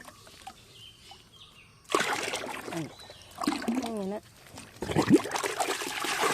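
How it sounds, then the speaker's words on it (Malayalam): Organic slurry fertiliser pours into a container of water in short splashing bursts, with someone speaking between and over the pours. "ഈ വെള്ളത്തിലേക്ക് ഒഴിച്ച്"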